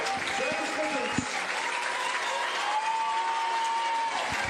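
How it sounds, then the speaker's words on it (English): Crowd cheering and applauding at a track and field meet in Perth, a steady dense roar of clapping and voices filling the whole stretch, with a few louder bursts and some talk mixed in. "Crowd going wild there just on the back."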